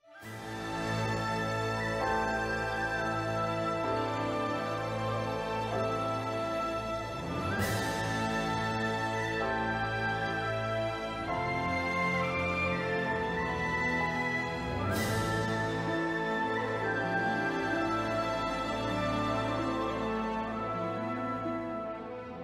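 A song from the video game Xenoblade Chronicles 3 plays as a full, steady orchestral piece. Sustained harmonies are marked by two bright accent swells, with no voices.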